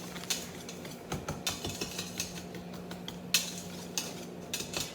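Metal whisk clinking and scraping in a bowl while mixing brown and granulated sugar for pecan candy, quick irregular taps and stirring strokes close up, no voices.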